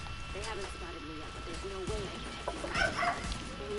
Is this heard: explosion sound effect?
no